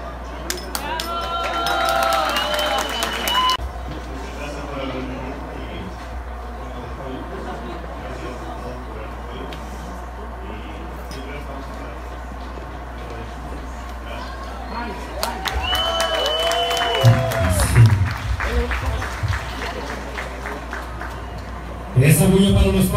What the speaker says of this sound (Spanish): el aplauso para los padrinos